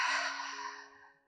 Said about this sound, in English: completely exhaling through your mouth.